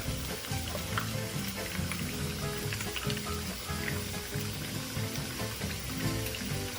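Pre-cooked fries sizzling and frying in a pan of lomo saltado, a dense continuous crackle with faint stirring clatter, close and steady with no voices.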